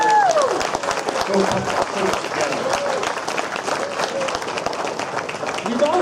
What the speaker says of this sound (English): can everyone give a round of applause for all the volunteers?